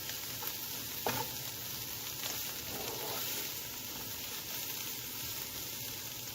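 Garlic frying in a pan, a steady, even sizzle held at moderate level throughout, with a faint clink or two early on and no voices.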